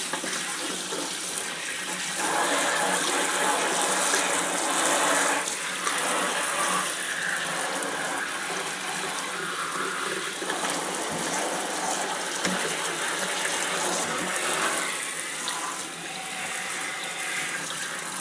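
Cold tap water runs steadily and splashes loudly as soap is rinsed out of gloves, a broad continuous rush close by for the whole stretch.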